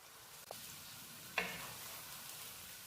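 Chana masala with chili flakes sizzles quietly in a pan while being mixed, a faint steady hiss with one sharper scrape partway through, no voices.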